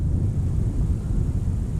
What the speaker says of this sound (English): So this walk is probably going to be littered with airplane noise.